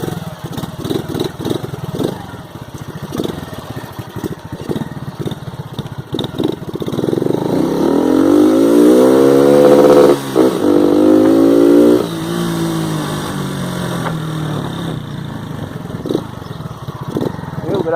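Modified carbureted Honda Pop 100 motorcycle engine idling roughly, then revving hard in a loud rising and falling howl before settling back, close by, with a voice speaking now and then.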